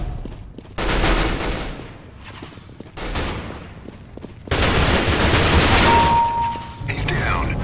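Rapid bursts of suppressed M4A1-S rifle fire in a CS:GO match, several loud clusters of shots separated by brief pauses, with players talking over the action.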